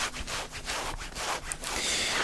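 Close, rhythmic scratching of fingernails over a shirt's laterally ridged fabric, a series of rough rasping strokes with no talking.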